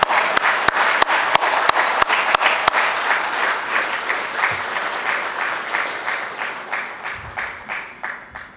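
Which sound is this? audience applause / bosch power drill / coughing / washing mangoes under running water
audience applause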